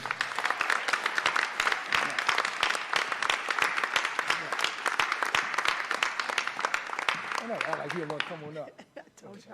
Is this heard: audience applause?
yes